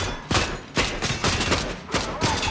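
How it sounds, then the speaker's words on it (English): Rapid gunfire in Fortnite Chapter 5 Season 3 strikes a shield, heard as loud, dense bursts of repeated sharp shots in quick succession throughout. "You just need to have the shield be shot 200 times."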